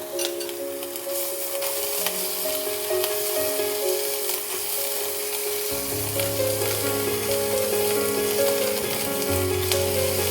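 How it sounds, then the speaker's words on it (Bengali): Ginger and garlic paste frying in hot oil gives a steady, close sizzle throughout, with background hum shifting partway through and no talk. "আদা বাটা রসুন বাটাটাকে ভালো করে একটু ভেজে নিতে হবে যাতে কাঁচা গন্ধটা চলে যায়।"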